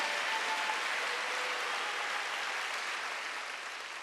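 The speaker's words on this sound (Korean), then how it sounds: "박수 한번 주세요." A church congregation at a Wednesday worship service breaks into applause that sounds like a broad, dense wash of clapping, staying steady and then fading slightly at the end with no speech over it.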